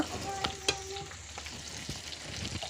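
Pandan and curry leaves sizzle in hot oil in a pan over low heat for a Sri Lankan tinned salmon curry: a steady close crackle with a few sharper pops and stirring clicks.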